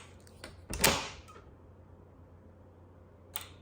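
An access-control door lock operated by a key fob clunks shut in one sharp, fairly close mechanical thud, with a fainter click about two and a half seconds later over quiet room tone.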